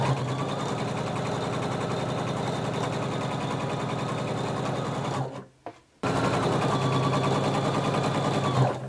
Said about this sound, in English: starting at the center back, we're going to sew 5/8 of an inch all the way around until we get to the first dot